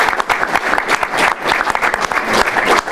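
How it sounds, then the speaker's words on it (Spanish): Applause from the audience at a jazz atlas presentation in Mexico, a short burst of lively, uneven clapping from a modest crowd, fairly close and loud. "Un aplauso, por favor"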